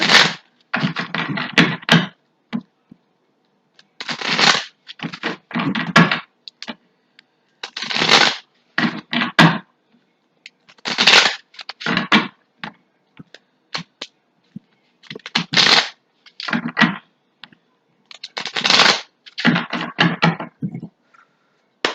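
Tarot cards riffled and shuffled in repeated bursts, each a soft papery flutter, close up with short pauses between, no talking.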